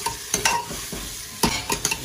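Red onion stirred and frying in a pan for veg pulao, with soft sizzling throughout and a few sharp scraping stirs near the start and again after a pause.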